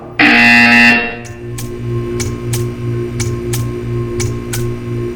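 A loud, harsh electronic buzzer in the video game Portal 2 blares for about a second, followed by a steady hum and a regular ticking.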